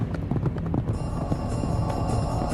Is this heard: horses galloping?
yes